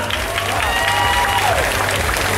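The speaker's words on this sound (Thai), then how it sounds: "ขอเสี ยงปรบมือให้กับน้อง ๆ ทั้ง 30 คนอีกครั้งนะครับ" Steady, dense applause from a pageant audience cheering contestants at the Miss Sexy Star contest of Miss Tiffany Universe 2015, sustained and fairly loud throughout, with a faint voice underneath.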